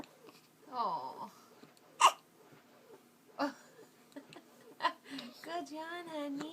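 A little girl hiccups repeatedly, sharp short gulps scattered every second or so, close and fairly clear, mixed with small whimpers and voices of people talking and chuckling around her.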